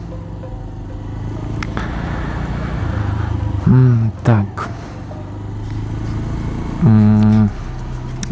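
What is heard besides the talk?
Bajaj Pulsar 180 motorcycle engine running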